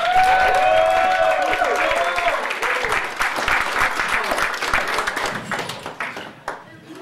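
A comedy club crowd at Comedy Works welcomes comedian Morgan Williams with loud, sustained applause and cheers, with piercing whistles early on. The clapping stays dense and close for several seconds before gradually tapering off.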